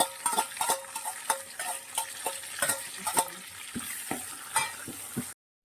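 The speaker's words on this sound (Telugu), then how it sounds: "ఉల్లిపాయలు పచ్చిమిరపకాయలు కరివేపాకు ఇది కోసి పెట్టుకున్నాను కదా ఇవి కూడా అయితే వేసేస్తున్నాను తాలింపు" Chopped onions, green chillies and curry leaves frying in a hot oil tempering, a soft steady sizzle broken by repeated sharp clicks and taps of a spoon against the pan, close and with no talking.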